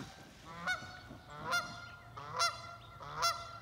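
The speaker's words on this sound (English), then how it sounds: "There's the goose. I couldn't even see the goose." A goose honks four times at an even pace outdoors, each call clear and moderately near over a quiet background.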